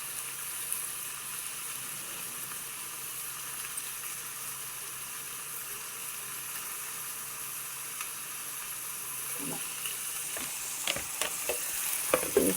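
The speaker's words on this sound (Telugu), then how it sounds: "వంకాయలు, టమాటాలు, పచ్చిమిరకాయలు, ఉల్లిగడ్డలు మొత్తం ఇలా బాగా కలుపుకోవాలి." Brinjals, tomatoes, green chillies and onions are stirred together in a pan for guta punugulu, a soft continuous sizzle and hiss with faint scraping and a few louder stirring clatters near the end.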